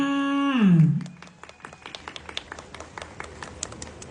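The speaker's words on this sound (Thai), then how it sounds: "เสียงปรบมือค่ะ" Small audience applause at a Thai evening gathering, starting after a sustained voice fades, then scattered sharp hand claps in a loose, uneven rhythm, moderately close and fairly light.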